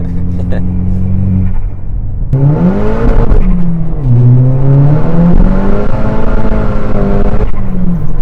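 A tuned Volkswagen Polo 6R WRC at stage 3 revs hard and bounces against its rev limiter, a loud, close, strained engine drone that rises and falls in pitch, with talking over it.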